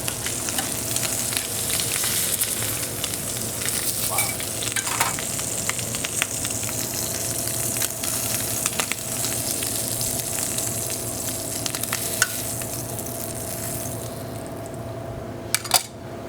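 Shrimp and fish frying in oil on a burner, a steady close sizzle and crackle with occasional small clinks and pops throughout.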